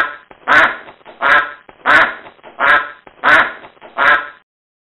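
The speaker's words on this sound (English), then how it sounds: "Duck." A duck quacks six times in a steady, evenly spaced rhythm, each call loud, nasal and close by, with no other sounds.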